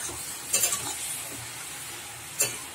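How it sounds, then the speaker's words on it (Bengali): Thinly sliced bottle gourd is stirred in a hot kadai, with a gentle steady sizzle broken by a couple of brief metallic scrapes of the spatula. "দিয়ে ভালো করে নেড়ে চেড়ে নেবো"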